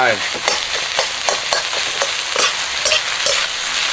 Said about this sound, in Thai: นี่นะครับคั่วแบบแห้งๆ